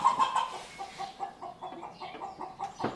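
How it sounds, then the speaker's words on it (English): A chicken clucks outdoors in a rapid string of short, bright clucks that starts a little louder and then continues more softly at a moderate distance. "Someone is chasing the chicken outside."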